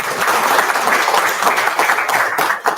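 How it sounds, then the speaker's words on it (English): Dense, steady applause from a large audience at an industry-institution summit fills the room, loud and continuous throughout with no break. "A big round of applause."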